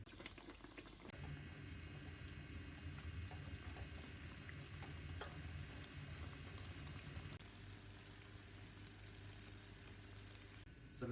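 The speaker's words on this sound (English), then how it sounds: "So we'll transfer them over to the deep fat fryer now and start frying." Donuts fry in a deep fat fryer, hot oil bubbling and sizzling in a steady, soft, close crackle with a low hum underneath that continues throughout without any talking.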